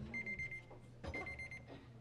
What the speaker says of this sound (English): eggs are done. Yeah, your timer.